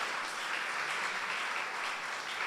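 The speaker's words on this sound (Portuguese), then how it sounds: "pode aplaudir." A church congregation applauds in a steady, fairly faint wash of clapping heard from a distance.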